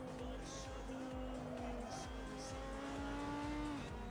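A race car engine in a racing video game on soft tyres, a continuous buzzing drone with rising and falling pitch shifts, heard moderately loud with no voices over it.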